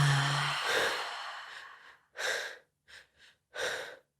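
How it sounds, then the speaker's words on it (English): A person breathing out slowly during a guided breathing exercise, a long airy exhale followed by several shorter, softer breaths with brief pauses between them, close and alone. "Just letting the breath go."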